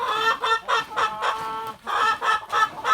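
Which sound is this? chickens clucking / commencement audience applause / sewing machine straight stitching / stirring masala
chickens clucking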